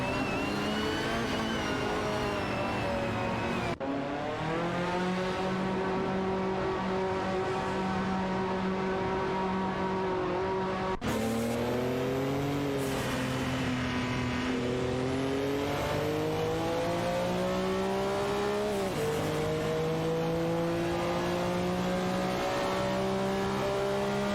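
Several race cars in a simulated AI racing series roar past with high, shifting engine harmonics that climb and drop in pitch through gear changes, loud and continuous with abrupt cuts between moments and no voices.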